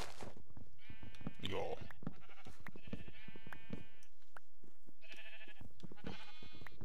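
Sheep in a Minecraft Pixelmon modpack farm bleating several times, clear and close, the wavering calls spaced across the stretch with someone speaking German in between.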